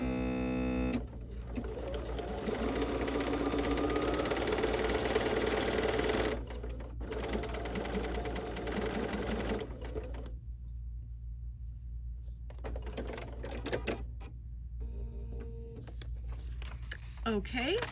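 A domestic sewing machine stitches a quilt block at a short stitch length, a steady whirring hum running for about six seconds, then stopping and restarting in shorter bursts with quiet gaps between them.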